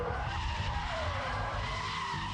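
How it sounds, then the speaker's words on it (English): Tires of a BMW Z3 M Roadster skid hard as the handbrake is yanked during a drift on a wide runway-like track at around 70 mph, a loud continuous screech with sliding pitch over steady road roar, no talking. "Grab the handbrake."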